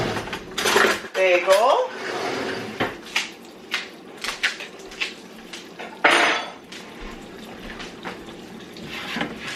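In a home kitchen, dishes and cutlery clatter and clink in short, separate knocks while a knife is fetched for a bagel, with someone talking and a brief running-water sound.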